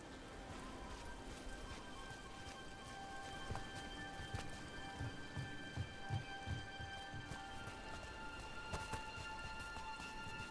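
Steady rain hisses in a Dragon Age: The Veilguard game scene, with faint hoofbeats clopping through the middle and occasional sharp clicks over the wet background.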